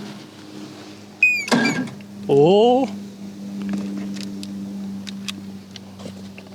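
An outboard or inboard boat engine cranks over on a key start, a steady mechanical turning drone beneath a short beep and brief voices nearby.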